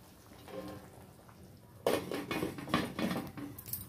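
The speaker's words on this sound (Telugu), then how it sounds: "మూత పెట్టేద్దాం." A lid goes onto a cooking pot of old-style yam and raw mango curry with a sudden close clank, then a few rattling knocks as it settles, all over a quiet kitchen background.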